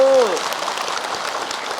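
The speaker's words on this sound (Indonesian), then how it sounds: "tepuk tangan Ibu" Indoor audience of women at an Islamic religious lecture in Indonesia clapping, a sustained crackling burst of applause right after a speaker's voice ends, steady and moderately loud to the end.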